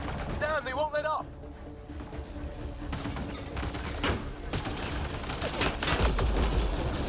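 Gunfire in a Mass Effect Andromeda battle: several sharp shots crack out over a noisy combat backdrop, with a voice talking across much of it.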